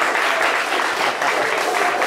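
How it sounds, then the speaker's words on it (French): A French radio show's audience breaks into loud, dense applause, a continuous wash of many hands clapping close and strong throughout with no pause. "on peut l'applaudir très très fort"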